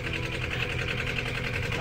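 An engine with an alternator charging new LiFePO4 lithium batteries runs steadily, a close, continuous mechanical drone with a fast, even vibrating rhythm and no talking over it.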